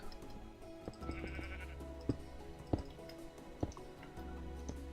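A sheep bleats in the Minecraft video game, heard among short ticking and dripping game sounds over a soft background, with no talk.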